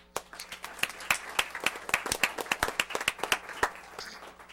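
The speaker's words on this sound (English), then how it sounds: "Once again, give them a round of applause." A small group at a Yukon, Oklahoma city council meeting gives a round of applause, with distinct, uneven individual hand claps close by, sparse at first and then thickening before trailing off.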